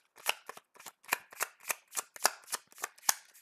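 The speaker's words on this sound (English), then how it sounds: "I'm going to shuffle my deck and deal myself an encounter card" A deck of cards is shuffled repeatedly for a card game, about a dozen crisp riffling bursts in a quick steady rhythm, close and alone.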